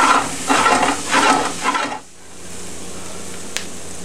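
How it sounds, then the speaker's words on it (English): Red pepper flakes and garlic cook in a pan for a Spanish eggplant dish, with a few seconds of close stirring and scraping sizzle that then drops to a quiet, steady low sizzle. "add our red pepper flakes and our garlic. And we'll cook this just for a minute more to get the garlic to start to bloom"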